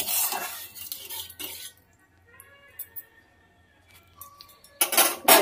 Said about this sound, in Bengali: দেখো জল দিয়ে দিলাম, ভালো করে নাড়িয়ে দিচ্ছি।